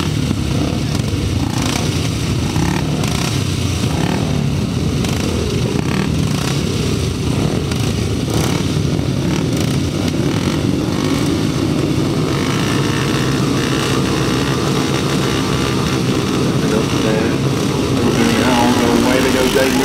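Several 375cc grasstrack racing motorcycles rev and roar together under a commentator's voice at a 2007 memorial grasstrack meeting, a dense, continuous engine wash that swells slightly toward the end as the race gets under way.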